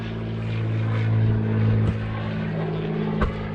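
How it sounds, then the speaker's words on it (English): A propeller aircraft flies over close to an airport, its steady droning engine swelling and then easing, with a couple of faint knocks near the end. "Oh, we have a nice aircraft coming up."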